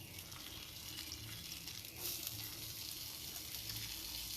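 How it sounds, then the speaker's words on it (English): Smashburger grease sizzling loudly on a grill, a dense continuous hiss that swells as a spatula pushes the fat aside. "I'm going to actually push some of the grease to the side"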